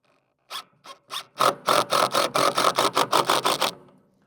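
A screw driven into 2x2 wood on a DIY chick brooder: a power driver pulsing in short buzzing bursts that speed into a quick rhythmic run of about a dozen pulses, close and clear.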